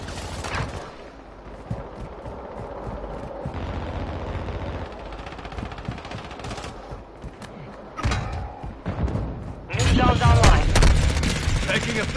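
Gunfire in a military video game: dense bursts of shots and rattling fusillades, close and loud, growing heavier and more intense toward the end.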